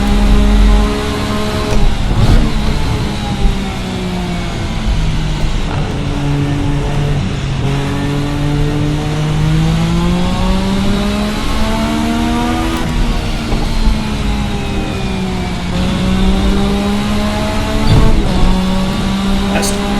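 A 1986 Formula RSS V6 race car in the Assetto Corsa racing game revs loudly and continuously, its engine pitch climbing and falling through gear changes over twenty seconds with no talk.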